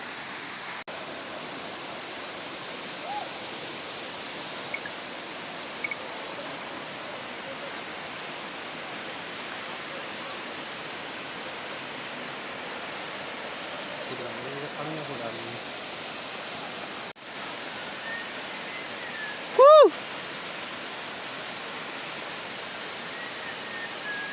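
Kataldhar Falls at Lonavala, dropping from a great height, gives a steady broadband rush that fills the whole stretch, even and unbroken, with a brief tonal blip near the end.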